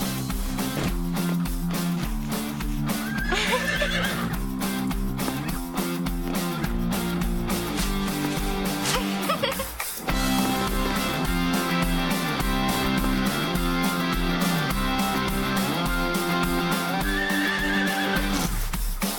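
A horse neighs in a couple of drawn-out whinnies over loud, steady rhythmic music that runs throughout.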